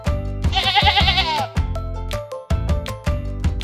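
A toy sheep gives a loud electronic bleat with a wavering, musical quality, followed by a few shorter repeated bleats, clear and close with no talking.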